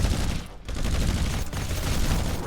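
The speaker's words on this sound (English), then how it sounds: "And let's get the burst rifle, can get a bit of work in." Burst rifle fire in The Riftbreaker, a sci-fi base-building action game, rattles in dense, loud volleys that fill the whole stretch, broken by only a brief dip, with no talking over it.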